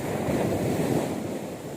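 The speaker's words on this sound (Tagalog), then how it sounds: "maingay kasi sa alon po malakas yung alon niya at syempre malaki yung dagat dito ngayon" Loud ocean surf roars continuously, a dense wash of crashing waves mixed with gusting wind across the microphone.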